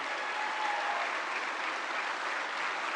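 Loud, steady applause from a large audience at a formal address by India's Prime Minister, a dense continuous wash of clapping that holds without a break for the full stretch.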